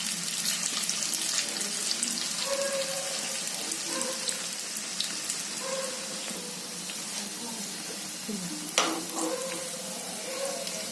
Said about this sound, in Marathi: आता मी करते, तळते आता त्याला थोडस